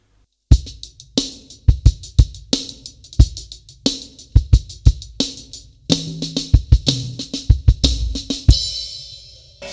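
A drum groove with flams worked in on snare and toms, driven by kick and cymbals, played loud and close with brief gaps and a crash ringing out at the end; no one speaks.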